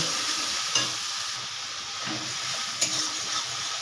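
Ginger-garlic paste sautéing in a hot pan, a dense continuous sizzle close up with a couple of brief scrape or stir knocks.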